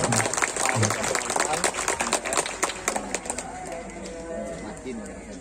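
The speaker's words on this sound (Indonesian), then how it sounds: "Kasih tepuk tangan dulu untuk santriwan dan santriwati." Applause from students at an Islamic boarding school (pondok pesantren) gathering, a dense patter of clapping that begins loud and slowly thins out, with a voice talking briefly over it.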